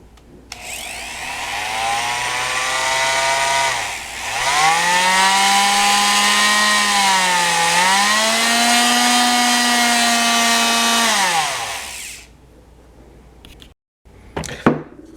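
A Mastercraft oscillating power tool runs loud and steady for about eleven seconds, its high whine dipping briefly in pitch midway as the speed changes, then cutting off, followed by a few handling clicks.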